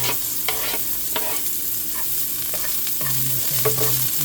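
Onion and garlic fry in a pan for chicken bistek, giving a constant sizzle broken by repeated clacks and scrapes of a utensil stirring against the pan, close and fairly loud, with no voices.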